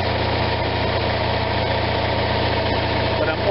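An Onan RV generator engine runs at a steady, loud, close drone with a constant vibrating hum, holding a raised speed instead of settling down to idle.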